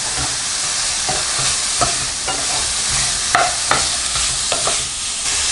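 Potatoes, carrots and peas sauté in a pan for Hyderabadi-style veg pulao, a continuous sizzle broken by repeated scraping stirs and clinks of a spatula, close and fairly loud with no talk.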